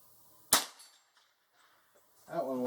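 A single sharp crack of a Stevens Little Scout 14 1/2 falling-block .22LR rifle firing at a metal target, loud and close, followed by quiet, then a voice talks at the end.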